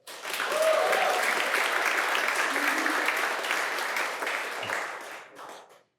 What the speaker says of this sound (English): Let's give him a big round of applause for being first.